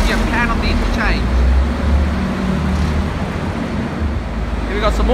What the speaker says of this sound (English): Here we got some more buses departing.